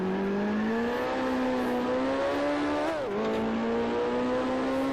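Vintage race car engine from Grand Prix Legends climbs in a high, clean whine, dips sharply as the car slides out of a hairpin with a brief tire squeal, then rises again; steady and close, no talk.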